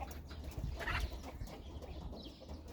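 Chickens and ducks in a yard give faint, scattered clucks and short calls at a distance over a low, steady background hum.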